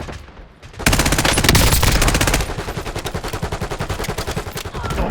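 Sustained automatic gunfire from a Call of Duty Warzone Resurgence match, loud and close, bursting in after a short quiet lead-in and then continuing as rapid rhythmic volleys of shots.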